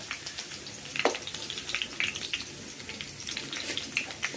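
Cumin seeds fry with chopped green chillies in hot oil for a Maharashtrian poha chivda, giving a soft, close, continuous sizzle with scattered faint crackles and pops and no talking.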